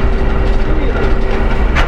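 A ChME3 shunting diesel locomotive rolls through Petrozavodsk freight station, heard from the cab as a steady low engine drone with a rumbling rattle of wheels on track, loud and continuous.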